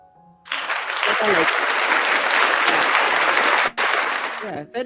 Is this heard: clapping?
yes